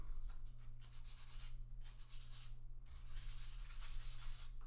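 Fine 800-grit sandpaper is rubbed lightly over guitar frets, giving a soft, continuous scratchy swishing with rhythmic back-and-forth strokes over a low steady hum, close and fairly quiet.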